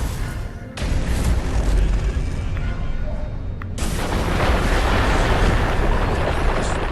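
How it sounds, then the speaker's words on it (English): Loud, continuous explosive rumbling from the video game Destroy All Humans! (2020) dominates, with a sudden cut and then another sustained burst of blasts and debris noise. "bear witness to the most satisfying explosions in the whole game"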